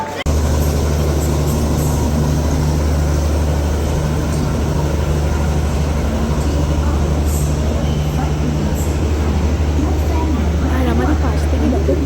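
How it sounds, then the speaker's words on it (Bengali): A train bound for Puri rolls past at a railway station, its steady low rumble and rattle loud and continuous throughout, with voices talking over it. "আর আমাদের পাশ থেকে দেখো পুরীর ট্রেন চলে যাচ্ছে।"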